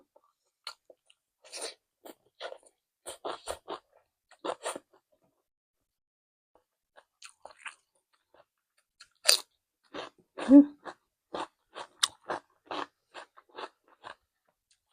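Someone chews homemade pork sausage close up, wet crunchy bites and mastication in irregular bursts separated by brief pauses, fairly quiet and alone without talk.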